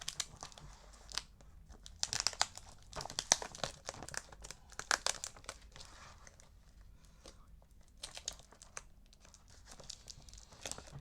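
Sellotape on a taped package is picked at and torn, bursts of close crinkling, ripping and crackling coming in irregular clusters with short quiet gaps between them.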